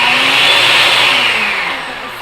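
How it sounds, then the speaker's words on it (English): A kitchen blender whirs steadily as it blends a chocolate milkshake with the lid on, a loud continuous motor drone that holds evenly and then eases slightly toward the end. "first let's blend it so then it gets all good"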